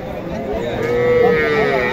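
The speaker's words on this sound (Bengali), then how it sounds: "এটা খুব চমৎকার দুইটি ষাঁড় গরু" A bull at a livestock market gives one drawn-out low moo, fairly close, over a murmur of market crowd noise.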